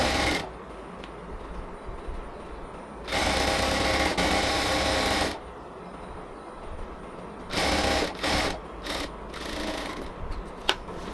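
A sewing machine stitches a frock in several bursts of fast mechanical whirring. Two longer runs are followed by a series of short stop-start bursts, all close and fairly loud, with quiet pauses between them and no talking.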